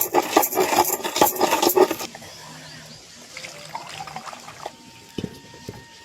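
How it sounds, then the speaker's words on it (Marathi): Oil poured for tempering a traditional toor dal amti, a loud liquid stream for about two seconds, then quieter kitchen clatter and faint trickles. "तेल ओतून घेते."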